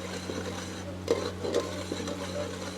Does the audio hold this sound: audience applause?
no